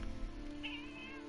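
A domestic house cat lets out a single short, fairly quiet meow close by over a faint steady background hum.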